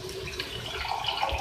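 Water pours into a cooking pot of broken-up spices for beef degi lauki gosht, a short steady splashing stream that runs alone without a break.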